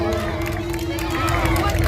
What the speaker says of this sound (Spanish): Fuerte el aplauso para estos niños